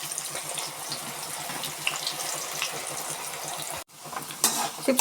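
Sliced tapioca fries in hot oil for crispy chips, making a dense, steady, close sizzle with no speech and a brief break near the end.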